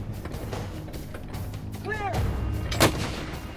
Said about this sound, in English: Huge blasts of cannon fire hit the ground, throwing dirt, rocks, and debris into the smoke-filled air.